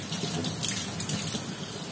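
Tap water runs steadily into a sink while guavas are washed for a guava jam recipe, a continuous close splashing hiss with no talking.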